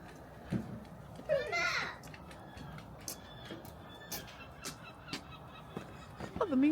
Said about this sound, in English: Seagulls are back, guys.